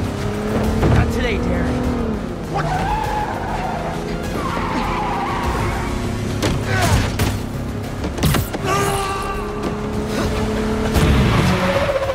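A car drives and brakes hard in the video game Marvel's Spider-Man 2, with engine revs, squealing tires and skidding, thumps of impacts and scattered game effects running continuously over about twelve seconds.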